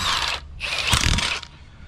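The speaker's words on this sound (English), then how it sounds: "rotate it up, and then you run your bolt in" A bolt being run into the quick hitch of a mini excavator gives a close, loud mechanical ratcheting whir in two bursts, with a brief pause between them.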